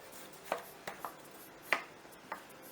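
A knife chops a bell pepper into chunks on a board, giving five sharp, separate cuts at an uneven pace, close and fairly quiet, with no talk.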